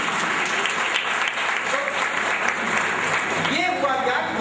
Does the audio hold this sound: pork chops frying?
no